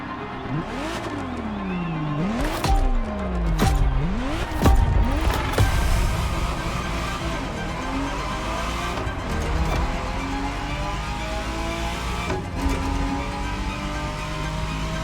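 A Ferrari Testarossa drives in The Crew Motorfest, its engine revving up and dropping repeatedly through gear changes before settling into a steady high-speed drone, loud and close throughout.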